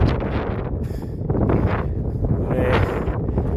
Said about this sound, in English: I am a bit worried about the wind because the conditions aren't great